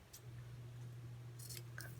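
Scissors snip through green craft material and a paper poinsettia for a Christmas project, a few quiet crisp cuts in short bursts over a low background hum.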